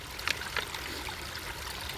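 A small valley stream runs with a soft, steady trickle and faint babble, quiet and close, with no voices.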